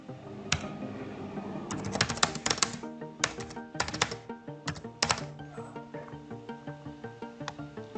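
Fingers type quickly on a computer keyboard, close and crisp, in irregular clusters of keystrokes with brief pauses, and no speech.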